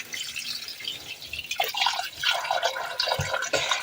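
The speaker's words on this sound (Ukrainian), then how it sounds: "далі м'ясо необхідно залити холодною водою повністю" Cold water pours over raw pork in a container, a bright splashing and trickling that builds and shifts over a few seconds, close and fairly loud with no talking.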